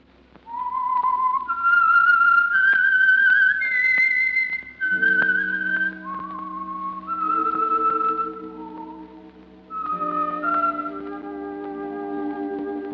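A clear, eerie whistled melody of long sliding notes rises and falls alone, then low sustained orchestral tones join beneath it, the theme signal of the old-time radio program The Whistler.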